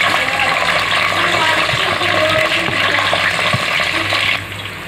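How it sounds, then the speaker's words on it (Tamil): Onions sizzle and fry in hot oil with cinnamon, cloves and cardamom for chicken biryani, a steady close crackling hiss that runs throughout with faint stirring and no talk. "வெங்காயம் நல்லா பொன்னிறமாக வர வரைக்கும் நம்ம வதக்கிக்கலாம்."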